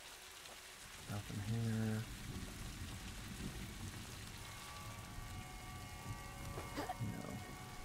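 Steady rain falls in the video game A Plague Tale, a constant hiss of drops across the scene with a brief tonal chime early on and faint game sounds layered over it.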